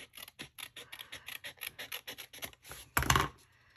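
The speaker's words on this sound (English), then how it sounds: "I am going to lightly trim this just a little" Cardstock being lightly trimmed for a handmade card, a rapid series of about twenty short, crisp rasping strokes close by, ending in one louder, longer scrape, with no voice.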